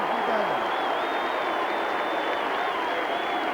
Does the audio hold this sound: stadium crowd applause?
yes